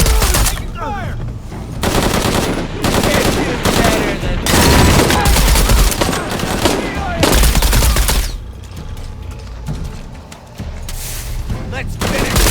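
Sustained bursts of automatic gunfire and single shots in a firefight from the video game Shadow of the Tomb Raider, loud and dense with brief lulls, with shouting voices mixed in under the shooting.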